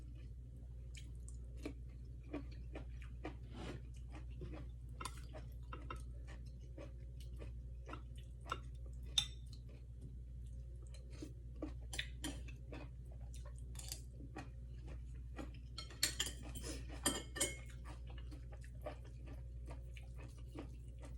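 Quiet, close chewing of glass noodle salad with squid and shrimp, soft wet squishes and occasional crisp clicks, spaced irregularly over a low steady background hum.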